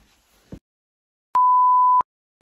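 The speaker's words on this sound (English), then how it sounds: "Insert beep right there so they don't know." A single loud, pure-tone censor beep lasts under a second, sharply starting and stopping, with near silence around it.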